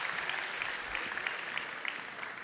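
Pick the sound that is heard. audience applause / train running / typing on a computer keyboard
audience applause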